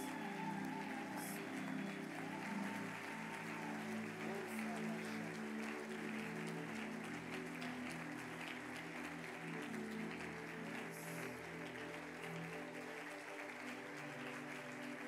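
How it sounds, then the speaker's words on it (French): A church congregation applauds steadily and at length, a dense continuous wash of clapping from many hands with faint voices mixed in. "Acclamons le roi des rois"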